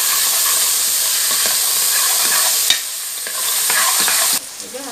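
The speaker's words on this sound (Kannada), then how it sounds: "ಈಗ ಟೊಮೆಟೊ ಹಾಕುವ, ಈಗ ಚೆನ್ನಾಗಿ ಮಿಕ್ಸ್ ಮಾಡಿ." Tomato is stirred and fried in a pan for jeera rice, with a close, loud, steady sizzle, scraping stirring strokes throughout, and the hiss dropping away near the end.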